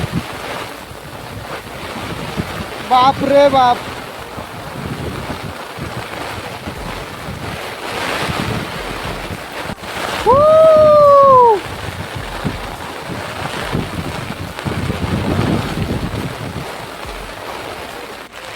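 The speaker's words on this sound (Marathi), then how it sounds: "जोराचा पाऊस आलाय, वादळासारखा वारा सुटलाय." Heavy rain and gale-force wind batter a fishing boat at sea at dusk, a loud, steady roar of wind and surging water with a couple of rising whistle tones cutting through, while a man briefly exclaims.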